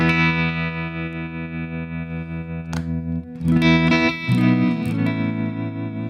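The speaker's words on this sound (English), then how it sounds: "Oh, and there is a tremolo in here. Let me kick that on." An electric guitar rings out sustained chords through a Line 6 Helix with its tremolo effect switched on, giving a wavering, pulsing tone as new notes are struck midway.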